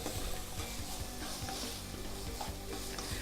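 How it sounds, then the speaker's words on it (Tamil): Salted potatoes being sautéed in a pan for sabudana khichdi, a dense close sizzle broken by repeated scraping stirs of a spatula, fairly quiet and continuous. "ஒரு 2-3 நிமிஷம் இப்படி வதக்கிட்டு உப்பு எல்லா பக்கமும் கரெக்டாக மிக்ஸ் ஆனதுக்கப்புறமா"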